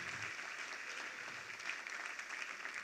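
A church congregation applauds during a service, a faint, continuous wash of many hands clapping heard from a distance throughout.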